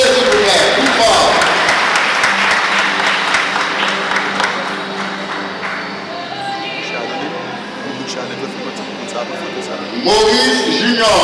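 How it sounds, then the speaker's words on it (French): A congregation at a school of ministry graduation ceremony in Haiti claps loudly and steadily, with crowd voices mixed in and a speaker's voice breaking in near the end. "Applaudissez s'il vous plaît, plus fort."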